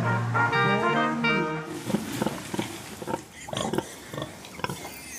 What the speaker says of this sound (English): I think pigs, they're such intelligent, sort of inquisitive animals.